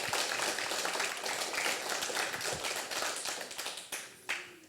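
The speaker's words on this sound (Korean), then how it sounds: "우리 모두 따뜻한 박수로 같이 시작하겠습니다." Audience applause opening a memorial ceremony for democracy activists at Seoul National University, a dense, steady crowd clapping throughout that thins toward the end, with a few last isolated claps.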